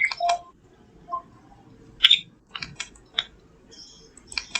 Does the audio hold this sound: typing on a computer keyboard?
yes